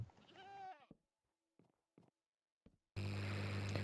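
A goat in a video game gives a bleat that breaks into short, quavering sounds, followed by brief bursts of talk. It ends in a sudden loud burst of noise.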